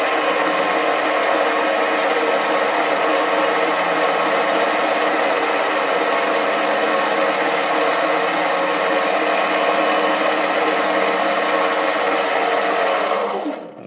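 A 7x16 mini lathe takes a final-depth cut with a steady, loud, close mechanical whine and hum that runs unbroken for about fourteen seconds before spinning down at the very end.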